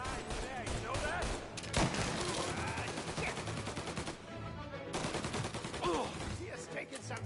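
Rapid bursts of gunfire from a PS4 shooter game crackle through dense in-game noise, with volleys repeating across the stretch and a brief dip before firing resumes, mixed with background voices.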